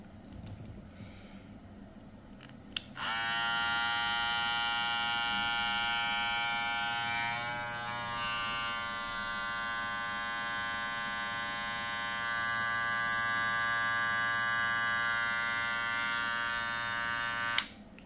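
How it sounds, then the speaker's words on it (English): A Wahl hair clipper fitted with a brushless motor switches on and runs with a steady, even electric whine and buzz for about fifteen seconds, close up and fairly quiet, then cuts off. "this is a brushless motor for Wahl clippers"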